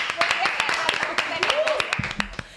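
Scattered hand claps ring out irregularly from a small group while a person speaks over them.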